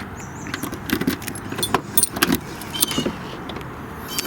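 The heavy rear trunk hatch of a 1992 Dodge Daytona IROC R/T is opened, giving a series of close clicks, jangling keys and latch clunks with a short mechanical thump, no speech.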